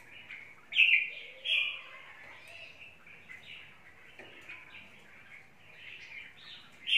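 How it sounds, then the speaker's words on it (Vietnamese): A caged songbird from Thai Nguyen sings clear, bright chirping phrases in short bursts separated by pauses, close and fairly loud against a quiet background. "Em này chim Thái Nguyên anh em nhá."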